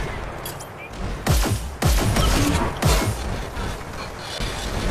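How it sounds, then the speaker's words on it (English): Rocket fire in the Hyper Scape video game, with several booming explosive blasts and whooshes in quick succession over a noisy game background. "They're firing from underneath."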